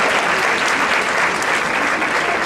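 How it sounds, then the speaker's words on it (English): A crowd at a female empowerment symposium applauds loudly and steadily, a dense, unbroken wash of clapping heard close and alone with no pause. "Miss Julex Cordova, give her a huge round of applause."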